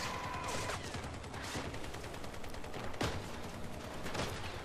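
Cannon fire in the Crossout vehicle combat game, dense, loud booming shots and blasts layered over constant engine and battle noise, with a few sharper reports standing out.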